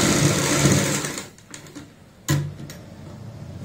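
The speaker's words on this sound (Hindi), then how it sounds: "अब हमें सिलाई लगानी है पेपर पेस्टिंग के साथ साथ।" A sewing machine stitches a kurti collar with paper pasting, whirring briefly, pausing with a few faint clicks, then starting again in a short burst.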